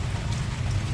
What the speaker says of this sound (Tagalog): Medyo umuulan na naman guys tayo ngayon.